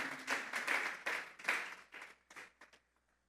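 Applause from a church congregation during an evening sermon, a burst of clapping that swells, then thins into a few scattered claps before fading out.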